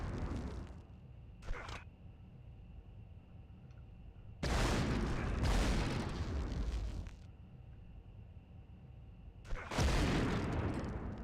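Grenade explosions in the video game Medal of Honor: two long, heavy booming blasts with rumbling decay, separated by quieter game ambience with a steady tone and a short sharp crack.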